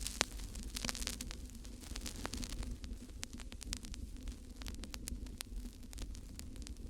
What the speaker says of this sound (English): Of course, the vinyl crackle kind of noise is a must.